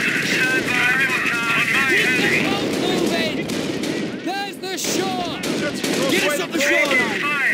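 Dense gunfire and artillery fire dominate a battle in the video game Company of Heroes: Opposing Fronts. Rapid shots and heavy blasts overlap continuously and loudly, with shouting voices mixed into the din.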